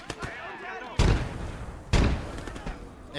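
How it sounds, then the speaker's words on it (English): Grenades burst in the WWII strategy game Call to Arms: Gates of Hell Ostfront, two sharp, heavy booms about a second apart over lighter battlefield clatter, with a voice talking faintly underneath. "Got a few cheeky grenades."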